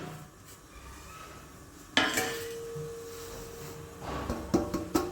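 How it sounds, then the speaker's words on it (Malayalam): Coconut and fried poha being stirred in a pan, quiet scraping followed by a sharp clang of a utensil against metal with a brief ringing tone, then several knocks and clinks near the end. "നന്നായി ഇളക്കി യോജിപ്പിക്കാം കട്ട കെട്ടുമെന്നൊന്നും പേടിക്കണ്ട"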